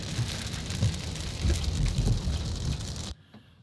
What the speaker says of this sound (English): So the rain has begun and we stopped for gas.